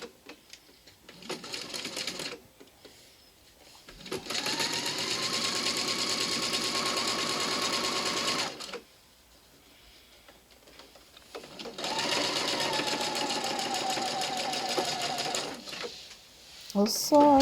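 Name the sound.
sewing machine sewing shoulder seams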